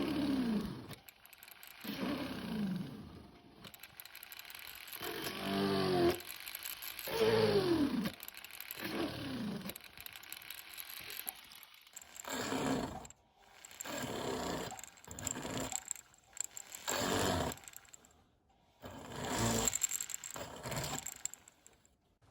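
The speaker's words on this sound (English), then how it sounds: "I am expanding holes diameter with a ball burr." A ball burr grinds to widen holes in a yellow gold ring, giving irregular rasping, scraping bursts with pitch sweeps and brief pauses, steady and close throughout.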